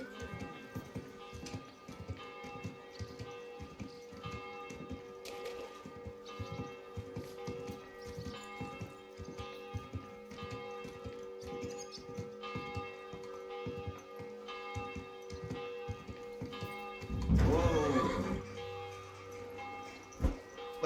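Steady clip-clop of horse hooves with bell-like tones over a busy soundscape in the video game Kingdom Come: Deliverance II, then a louder burst near the end.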